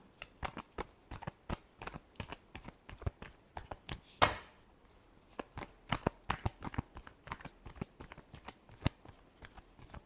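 Tarot cards get a final shuffle before a love reading. Soft rapid flicks and taps come in irregular bursts, near and fairly quiet, with no voice over them.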